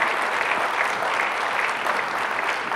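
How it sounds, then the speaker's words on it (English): An audience at a mayor's State of the City address applauds, a steady dense wash of clapping with no pauses, moderately loud and even throughout. "I'd like to see to it that Joe gets a big round of applause."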